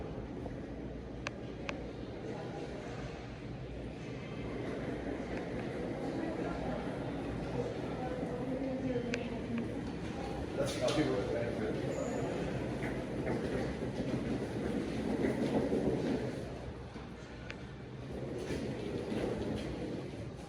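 A hotel elevator ride at the Marriott in Sugar Land carries a continuous low rumble and hum of the moving car, with a few clicks and clunks, while people talk over it.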